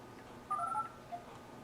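A short run of telephone dialing tones from an HTC smartphone placing a call home: a few quick, faint electronic beeps in a quiet room, no talk over them.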